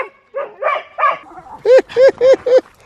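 A young dog gives a string of short, high yips and barks close by, several quick loud calls in a row with brief gaps between them.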